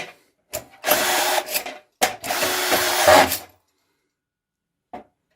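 Kaltmann K-WZP18V cordless screwdriver with a screw feeder driving screws in two sustained bursts of roughly a second each, close and loud, separated by a brief pause, then a short click near the end.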